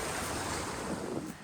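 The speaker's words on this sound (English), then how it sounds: "And that is a waterfall." A waterfall in the Scottish Highlands makes a steady, broad rush of falling water, with wind noise buffeting the microphone throughout and a slight dip at the very end.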